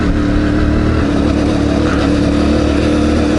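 A CFMOTO 450 MT motorcycle engine at light throttle, a loud, close, steady mid-pitched drone that holds an even tone without rising or falling.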